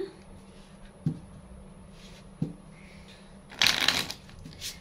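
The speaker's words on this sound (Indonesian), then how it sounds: "Kita kocok kartunya sama-sama ya." Tarot cards being shuffled by hand: soft taps and riffles at a slow, uneven pace, then a brief dense flutter of cards near the end, close and quiet, with no talk.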